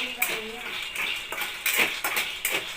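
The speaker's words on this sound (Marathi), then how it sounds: "इथं शेंगदाणे, ही मिरची आणि हा लसूण हे मी एका ग्लासमध्ये कुटून घेतो" Peanuts, green chili and garlic are pounded in a glass, making a steady run of sharp, ringing clinks and taps at a brisk, uneven rhythm, close by and moderately loud.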